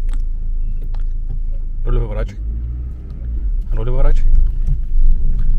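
Low, steady rumble from a manual car engine as a learner drives, swelling slightly toward the end, heard under short spoken instructions from a passenger.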